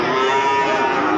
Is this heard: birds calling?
no